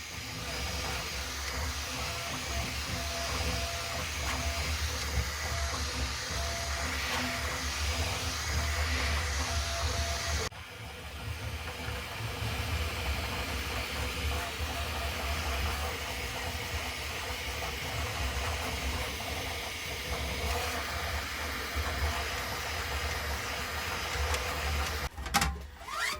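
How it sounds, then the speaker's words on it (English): A 3D printer prints animatronic eyes and eyelids, a steady whirring drone with faint stepper-motor tones that holds for the whole stretch and shifts slightly midway, with a few small clicks near the end. "The printer is currently printing the eyes and the eyelids, so you have to excuse the noise."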